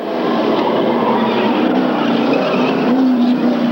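Race cars on the final lap of a 1994 oval race, with a Chrysler-powered car leading, roar past loudly in a continuous engine drone with rising whines and a touch of tire squeal.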